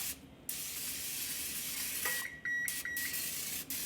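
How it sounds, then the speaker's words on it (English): A short hissing burst of cooking spray onto a pan, broken by gaps, with a few high electronic beeps near the end. "I'm just going to spray my pan real quick"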